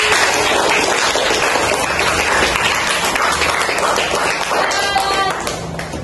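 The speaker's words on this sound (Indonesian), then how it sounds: "Beri tepuk tangan untuk Uri." Schoolchildren in a sixth-grade classroom clapping together, a dense continuous burst of applause that fades slightly near the end, with a few faint voices mixed in.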